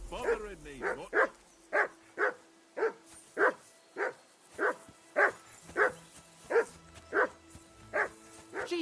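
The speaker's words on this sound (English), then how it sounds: "Jesus, Henry, that barking's driving me nuts. Can you get your dog to shut its beak?" A dog in the video game Kingdom Come: Deliverance 2 barks repeatedly at a steady, even pace, about a dozen sharp barks spaced roughly half a second to a second apart, fairly close.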